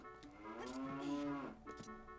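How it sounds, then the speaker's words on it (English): Cows in Ocarina of Time give a long, drawn-out moo that swells and fades, heard close and clear over quiet game ambience, followed by faint soft sounds. "There's a bunch of cows in here."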